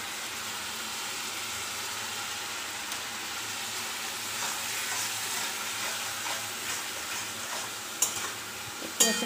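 Chopped tomatoes sizzle and fry in a pan while being stirred, giving a continuous close hiss with a few clinks of the spoon near the end.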